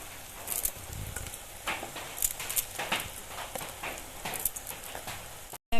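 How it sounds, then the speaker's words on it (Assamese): Maggi noodles frying with vegetables in a pan give a steady, rain-like sizzle and crackle, with occasional scraping and clinking from stirring, close and moderately quiet. "মেগীখিনি অলপমান ভাজি লওঁ চব্জিটোৰ লগত।"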